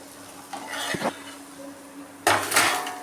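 Metal pan clatters and scrapes as sautéed okra for an okra-and-egg stir-fry is shifted into another vessel, with a few sharp knocks early on and a louder burst of clanking near the end.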